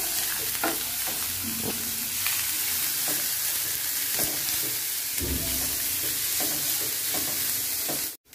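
Bottle gourd peel cooks on a low flame, giving a continuous soft sizzle with the scrape and clatter of stirring. Close and steady, it ends in an abrupt cut with no voices.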